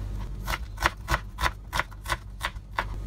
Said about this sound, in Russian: Теперь мы будем резать лук.